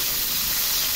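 Chopped onions hit browned garlic in a hot pan, giving a loud, steady, even sizzle and hiss that fills the whole moment without pause.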